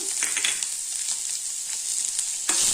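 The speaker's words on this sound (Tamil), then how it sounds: "வெங்காயத்தை ஒரு 1 நிமிஷம் வதக்கிக்கலாங்க." Onions sizzling and frying in a hot pan after garlic and ginger for urad dal chutney, a steady continuous crackle with occasional stirring scrapes, close and alone.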